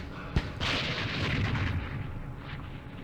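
Mortar fire in the Vietnam war game Campaign Series Vietnam, Battle of Pleiku 1968: a sharp launch crack followed by a rolling, rumbling blast that fades slowly, with no voices.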